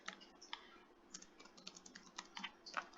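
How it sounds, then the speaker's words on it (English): Fingers tap out a message on a computer keyboard, a quiet, close, uneven patter of rapid keystrokes with small pauses and no voices. "I'm typing in the chat box so you can see."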